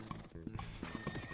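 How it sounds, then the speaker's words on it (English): A horse neighs and whinnies in a drawn-out, song-like series of calls, with faint clip-clop hoofbeats underneath, playing as a quiet, full-sounding recording. "You spend the next several minutes listening to this beautiful horse song."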